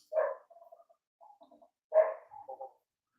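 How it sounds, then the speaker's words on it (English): Dogs barking in two short bursts, each a sharp bark followed by quieter yips and trailing barks, moderately distant with silence between them and no talk. "I don't know why the dogs are barking."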